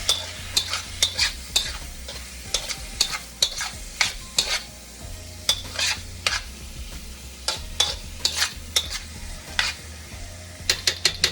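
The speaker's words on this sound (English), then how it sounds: "I love that sound of sizzle, because that sizzle means brown food." Chicken and garlic butter fry in a hot pan for fried rice, a continuous close sizzle broken by frequent rhythmic scraping and clacking as a utensil stirs, with a few pauses in the stirring.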